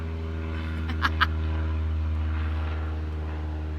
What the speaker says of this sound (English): Hello, plane.